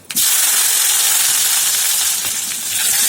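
Onion goes into hot oil in a pan and sets off a sudden loud burst of hissing sizzle that stays strong and steady.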